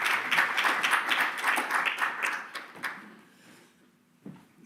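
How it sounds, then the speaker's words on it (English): A small audience claps for a speaker at a talk on decarbonising the built environment, a few seconds of moderate, fairly close applause that trails off, then a single soft knock. "It's always nice to get a clap before you actually start."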